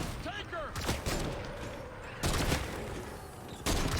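Sniper rifles fire in a video game, with loud sharp shots landing at irregular intervals, a cluster early and two more heavy reports later, over a busy game background.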